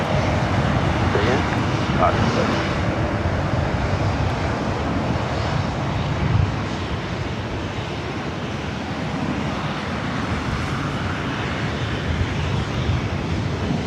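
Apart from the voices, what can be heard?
airplane at LAX airport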